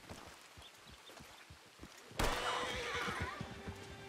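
Horse neighing in a Red Dead Redemption 2 roleplay game: soft hoof clops at first, then a sudden loud whinny that trails off over continued movement sounds.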